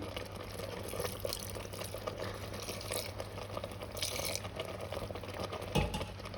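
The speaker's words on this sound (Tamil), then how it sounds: "இப்போ நான் இதுக்கு தேவையான அளவு பாலை விட்டுக்கொள்ள போகிறேன்" Coconut milk poured into a cooking pot while making a traditional South Indian mixed rice dish, a steady liquid pour with a soft, continuous rush and a small splash near the end, close by with no talking.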